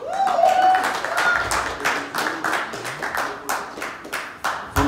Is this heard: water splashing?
no